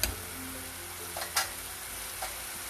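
Tomatoes frying with spices in a pan, a steady, moderately loud sizzle with two or three soft clicks of a utensil and no voices.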